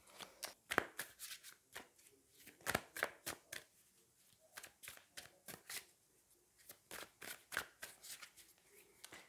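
Tarot cards being shuffled by hand, a quick series of crisp riffling and slapping bursts in uneven clusters, close and fairly quiet, with no talking.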